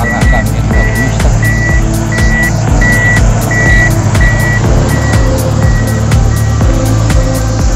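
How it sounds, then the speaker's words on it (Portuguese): Heavy roadwork machine spreading gravel during a road widening, a loud steady diesel drone with regular reversing beeps pulsing throughout, close and continuous with no talking. "Aí a máquina aí passando cascalho, alargamento da pista."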